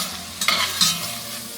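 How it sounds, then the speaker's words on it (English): Italian sausage browns in a hot pan, sizzling close and moderate in volume, with a couple of quick stirring scrapes. "we're going to brown this meat, the Italian sausage"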